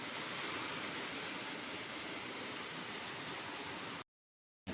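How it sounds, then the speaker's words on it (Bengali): Rain falls outside on a dark afternoon, a dense, steady hiss that holds evenly for about four seconds and then cuts to silence. "বৃষ্টি হচ্ছে"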